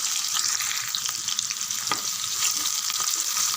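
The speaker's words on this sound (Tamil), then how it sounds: "வெங்காயம் நல்லா வதங்கட்டும்." Three long-sliced onions sauté in hot oil with cinnamon and cloves for chicken gravy, giving a continuous bright sizzle broken by small scraping stirs and a few pops.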